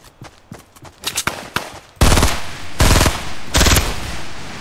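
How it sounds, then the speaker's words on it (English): Gunfire in the Fortnite video game: a few scattered shots, then loud rapid automatic bursts of fire at close range, with short pauses between the volleys. "Is somebody shooting at me?"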